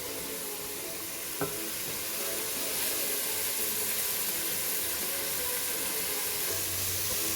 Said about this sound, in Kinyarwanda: Uragaragura n'ubundi, ugategereza ko igitunguru nacyo cyenda kujya gushya.